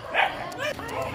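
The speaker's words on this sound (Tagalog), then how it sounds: "Nag-aaraway pa. Kasama pa namin yung mga aso." Dogs play-fight along a rural walking shortcut during a Holy Friday procession walk, giving quick yipping barks and a brief whimper in a short burst. Voices talk over the barking.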